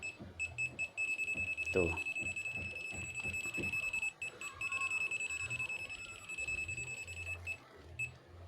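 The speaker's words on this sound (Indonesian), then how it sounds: "Tapi kalau tit itu artinya nyambung ya tuh." Continuity beep from a digital automatic smart multitester checking an electrical cable, a steady high electronic tone sounding continuously through the clip under intermittent speech.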